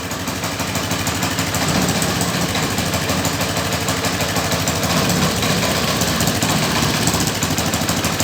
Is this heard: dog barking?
no